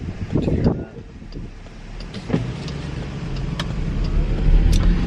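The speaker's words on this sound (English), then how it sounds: "it's really windy" Strong wind blowing along an outdoor street where signs sway, heard as a rushing, gusting roar against the microphone that builds louder toward the end, with a few brief knocks early on.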